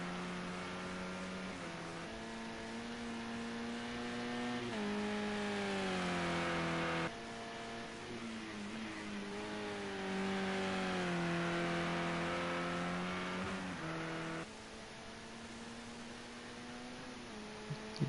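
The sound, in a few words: Renault Megane race car engine in a BTCC sim racing game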